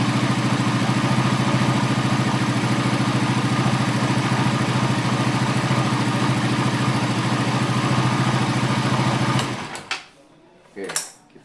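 A Suzuki GSX-R150 motorcycle engine idles steadily and loudly after a throttle body service, a constant close mechanical chug that cuts off near the end, followed by a few brief knocks.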